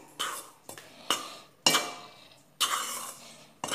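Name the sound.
stirring a mixture with powdered milk in a bowl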